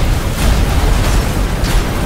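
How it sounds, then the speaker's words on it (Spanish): In the Roman combat game Ryse: Son of Rome, a catapult fireball explodes. It makes a loud, dense, rumbling blast that fills the whole moment with heavy low-end roar and crackle. "vienen las catapultas, la bola de fuegos."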